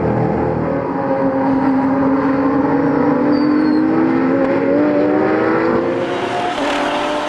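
Retro-liveried Porsche 911 race cars run wheel to wheel on the Lédenon circuit, engines droning loudly and continuously with rising pitch sweeps as they accelerate, a sharp shift near the end.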